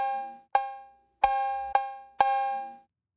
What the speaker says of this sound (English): if I just go through Splice and check out some other 808 cowbells